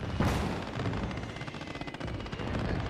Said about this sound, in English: I'm surprised I've let that mortar go for so long.